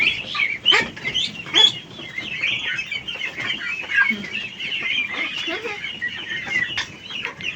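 Hungry ducklings at a farm scramble about and feed, giving a busy stream of high, close peeping and chirping calls with short louder bursts, continuous over the whole stretch.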